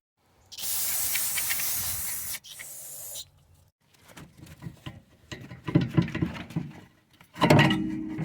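Brake cleaner sprayed onto the rear brakes of a 2019 Mitsubishi Outlander Sport, two close hissing aerosol bursts, a longer one then a short one, followed by clinking handling of parts and another spray at the end.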